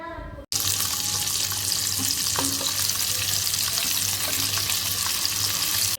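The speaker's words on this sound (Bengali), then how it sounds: "এখন চুলায় একটা পাত্র বসিয়ে সামান্য তেল দিয়ে মাছগুলো ভেজে নেব" Rohu fish pieces fry in a little oil in a pan on a stove, a loud, steady, crackling sizzle starting after a brief quiet moment and running unbroken to the end.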